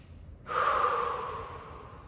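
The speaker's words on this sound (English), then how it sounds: "on your next inhale, lift it up and hold." A deep yoga inhale, one long breath drawn in sharply after a brief silence and held for about a second and a half before fading, close to the mic with no talking.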